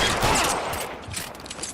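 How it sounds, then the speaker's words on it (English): Rapid gunfire in the L.A. Noire video game, a dense burst of overlapping shots filling the short stretch at a steady loud level, with no talking. "Oh man, I got shot."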